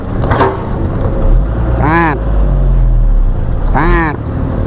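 A vehicle engine revs hard in two rising surges while driving onto an unfinished, unstable limestone road under construction in Bekasi. A steady low rumble runs underneath, and people talk nearby.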